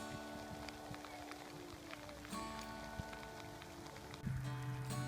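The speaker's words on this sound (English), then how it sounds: "Steadily raining." Steady rain falling on a forest backpacking trail, a faint continuous patter with scattered drops and a low hum rising near the end.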